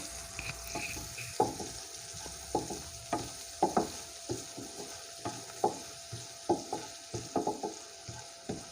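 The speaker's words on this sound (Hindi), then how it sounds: "अब हम इसके अंदर ये ग्रीन प्याज डालेंगे, ऑनियन। इसको हिलाएंगे।" Chopped green onion sizzles in hot oil with browned cumin seeds, with repeated stirring scrapes and taps of a spoon against the pan in an uneven rhythm, close and moderately loud, no talking.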